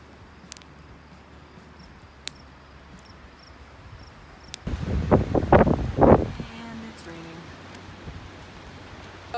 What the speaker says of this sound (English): So it's raining, it's really windy